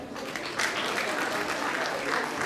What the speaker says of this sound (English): May we clap for them.